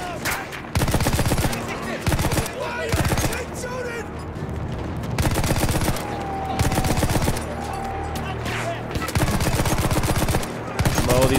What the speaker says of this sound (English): Even the machine gun has like some weight to it. It feels like a machine gun.